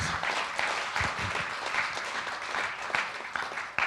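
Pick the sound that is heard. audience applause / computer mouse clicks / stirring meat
audience applause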